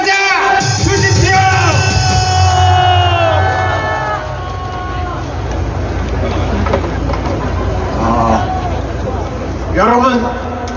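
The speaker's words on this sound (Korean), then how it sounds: "큰 박수로 맞아 주십시오." Crowd at an outdoor political rally in Korea greets a former vice defense minister with cheers and whoops, loud and continuous, with voices shouting and a speaker's amplified voice over the crowd noise.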